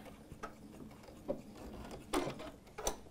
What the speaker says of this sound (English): You do want to use a reinforcement stitch on your machine at the beginning and the end of the seam